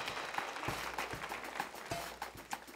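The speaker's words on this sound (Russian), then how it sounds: "Ваши аплодисменты всем," Studio audience applause on the Russian TV lottery show Russkoe Loto in 1996, steady clapping with distinct individual claps, fairly faint and unbroken by talk.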